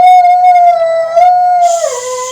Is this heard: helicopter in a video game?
no